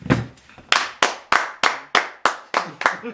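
A handful of slow, sharp hand claps ring out one after another at a steady pace, close and loud, with a brief murmur of voices at the start.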